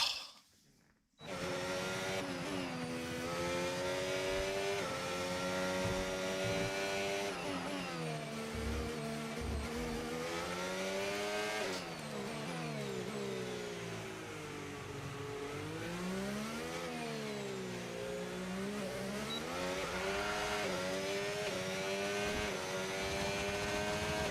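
F1 car in the F1 25 video game on a flying lap, a high whining engine rising and falling through gear changes and a sliding corner, loud and continuous after a brief quiet start.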